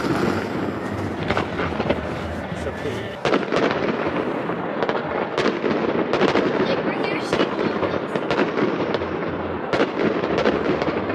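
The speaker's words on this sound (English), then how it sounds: "No, that's just the fireworks, Jen." Fireworks bang and crackle continuously in dense bursts, loud and echoing, with people chatting faintly underneath.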